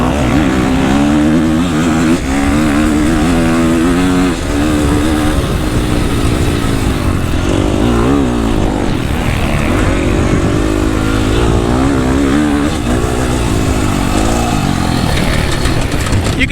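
A KTM 350 motocross dirt bike is ridden at Glen Helen on a rough dirt track, its engine droning loud and steady throughout with rising and falling revs, close to the microphone and mostly alone.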